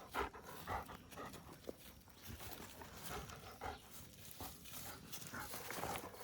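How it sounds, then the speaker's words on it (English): A dog pants outdoors in rural surroundings, with short breathy bursts repeating irregularly at close range, mixed with faint rustling and no talking. "The dog that will play with cats,"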